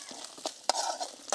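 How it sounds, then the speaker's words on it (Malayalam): Coconut pieces fry in hot ghee for unniyappam, a gentle sizzle broken by several sharp scraping clicks of a spoon stirring in the pan. "ഈ നെയ്യിലാണ് നമ്മൾ തേങ്ങ വറുക്കുന്നത്."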